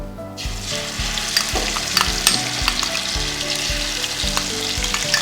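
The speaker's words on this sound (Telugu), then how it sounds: "ఇది జింజర్ గార్లిక్ పేస్ట్ యాడ్ చేస్తాం." Ginger garlic paste fries and sizzles in hot oil in a pan, a loud dense crackle with repeated scraping stirs from a spoon, close up and without speech.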